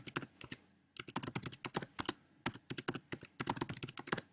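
Password being typed on a computer keyboard: a rapid, irregular run of crisp key clicks, close and clear, with a brief pause near the start and no talking.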